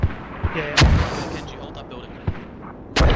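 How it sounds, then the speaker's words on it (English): Enemy mortar fire in a multiplayer video game match, heard as several sharp, loud blasts spaced irregularly over a few seconds, with faint voices between them. "Enemy mortars marked accurate."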